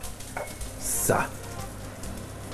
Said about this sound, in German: Das sind schon unsere Knackwürste, die da brutzeln.